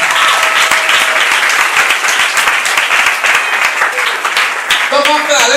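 A church congregation at a Sunday service bursts into continuous loud applause and cheering. Dense clapping fills the space throughout, and a few raised voices emerge near the end.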